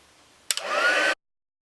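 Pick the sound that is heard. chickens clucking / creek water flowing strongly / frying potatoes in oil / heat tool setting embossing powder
heat tool setting embossing powder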